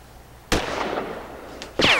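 A Japanese Type 96 light machine gun fires two loud, sharp reports about a second apart, each with a short ringing tail, heard without talk.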